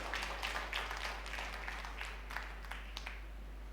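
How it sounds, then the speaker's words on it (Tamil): A congregation clapping hands at a church service, a faint, distant patter of steady applause over room noise and a low hum. "கைதட்டு"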